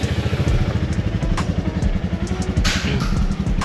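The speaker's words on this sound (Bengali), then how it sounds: "গাড়ি কোল্ড স্টার্ট দিয়ে দিই" A Royal Enfield Meteor 350 motorcycle idles in neutral just after a cold start, a steady, loud, close thumping single-cylinder rhythm with an even low pulse throughout.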